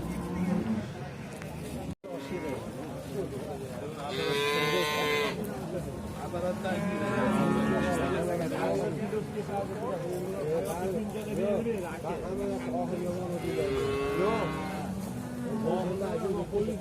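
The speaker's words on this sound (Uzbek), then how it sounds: "Shahrixondagi mollar." Cattle and other livestock low and call repeatedly across a busy market in Shahrikhan, several drawn-out moos and bleats rising over constant crowd chatter and background noise.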